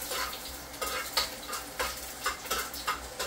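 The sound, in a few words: onion frying in oil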